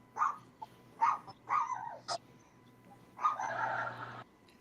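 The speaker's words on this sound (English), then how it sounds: "Shut up, dogs." Several dogs bark in short bursts at a moderate distance, in irregular rhythm, with a low steady hum underneath and no speech.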